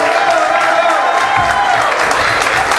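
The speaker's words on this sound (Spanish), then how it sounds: "Fuerte el aplauso para esas chicas" A crowd at a Spanish-speaking afternoon gathering applauds the girls with sustained, loud clapping and some crowd noise, while a tonal voice or music carries on underneath.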